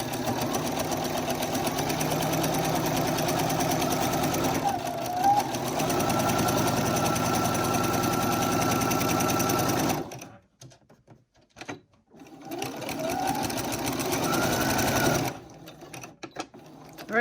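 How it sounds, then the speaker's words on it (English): A sewing machine stitches the bottom seam of a fabric bag, a loud steady mechanical whir that runs continuously, drops out into near-silence for a few seconds, then resumes and pauses again briefly. "And then we're just gonna keep sewing down."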